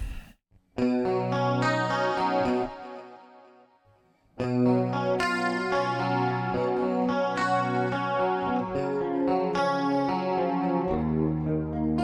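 Electric guitar chords ring out with a quarter-note and dotted-eighth delay echo trailing each note, a brief pause, then more sustained, layered strumming with audible delay tails.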